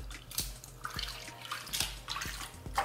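A synthetic wig pushed down and fully submerged in water, giving soft sloshing and gurgling splashes in uneven surges with occasional drips, close and fairly quiet, no talking.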